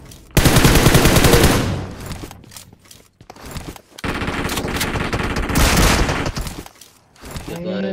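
Rapid automatic gunfire in a shooting video game, loud sustained bursts of machine-gun fire separated by brief pauses, with a closing short scrape and no talking.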